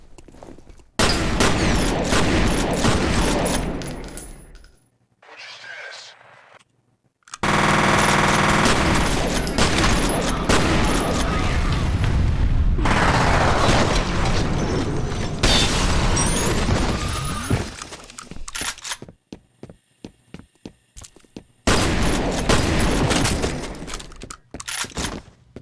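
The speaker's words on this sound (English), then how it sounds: "God, the gun sounds are so good too." Loud bursts of gunfire and booming shots in the video game F.E.A.R., coming in long dense volleys separated by short silent gaps, with quicker single shots and bursts toward the end.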